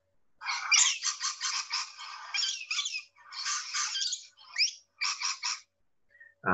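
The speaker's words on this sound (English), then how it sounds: "Another feature of these birds is that they make a very raucous call." A harsh, raucous bird squawking in rapid repeated bursts, loud and close, with short pauses between calls.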